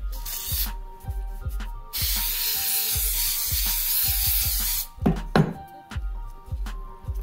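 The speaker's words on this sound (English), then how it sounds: "I'm gonna spray the paper down." Spray adhesive hissing from an aerosol can onto a paper cat template for a bandsaw cut in a woodworking shop, one long spray burst followed by shorter hisses, close and loud over a low rhythmic machine hum.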